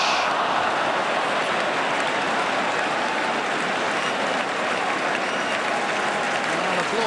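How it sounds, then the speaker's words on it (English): Steady applause fills a football ground after a Luton Town move against Aston Villa, a broad continuous roar of clapping from the stadium crowd, with no break across the whole stretch. "Applause all around the ground for that Luton Town move"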